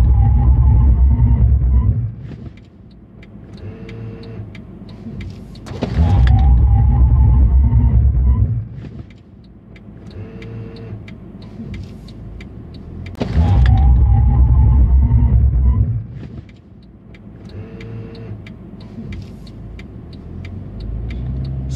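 Mercedes-Benz car cruising at 100 km/h and then braking hard in an emergency stop: a loud low road rumble and engine drone in repeated surges, each dropping away sharply into quieter cabin hum with whirring motor sounds.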